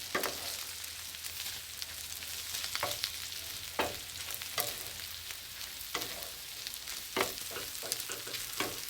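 Mushrooms frying in a pan with bacon fat and onions, a steady close sizzle broken by several sharp stirring and scraping clatters, with no talking.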